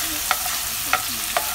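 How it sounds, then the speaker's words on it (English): Fried rice with oyster sauce and ginger stirred in a pan, three spaced scrapes of a utensil over a steady hiss of frying, close and short with no voices. "we're going to give it all a good stir and let it cook together"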